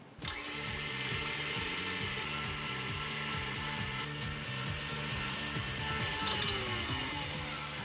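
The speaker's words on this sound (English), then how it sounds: "Turn on the mixer at first without adding any of the other ingredients and just give those egg whites a minute to break up." An electric mixer whips egg whites with a steady, close mechanical whir and rhythmic gear-like ticking that runs unbroken throughout.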